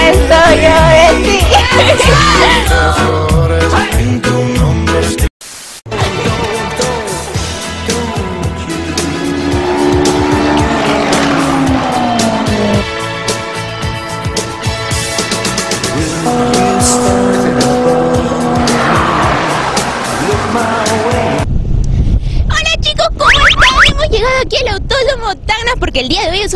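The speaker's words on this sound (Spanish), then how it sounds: "es la última fecha del track day de corrida de autos" Race cars lapping at a track day at Autódromo Tacna, engines roaring and tires squealing loudly across most of the stretch, with a brief dropout partway through and speech over the noise.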